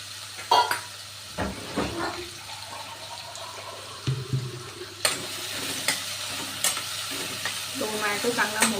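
Tomatoes tipped into a pan of frying garlic and green chilli, then stirred with a spoon: a soft sizzle runs underneath scattered scraping and clinking strokes.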